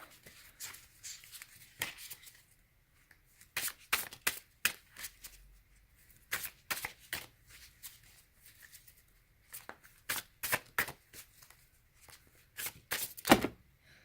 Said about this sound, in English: A lot of cards falling out while I shuffled